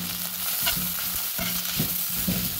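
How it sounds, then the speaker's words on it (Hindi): Sliced onions and a green chili frying in a few spoons of oil, a steady close sizzle broken by several scraping stirs of a spoon through the pan. "मैंने दो तीन चम्मच तेल लिया है, उसमें मैंने ये तीन प्याज जो हैं वो नॉर्मल स्लाइसेस में कट करके डाल दिए"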